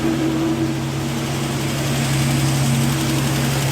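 A Chrysler Valiant's engine idles steadily with a low, even drone, its exhaust spitting out water, probably from a leak at the inlet manifold studs; the idle holds constant and close throughout, with no talking.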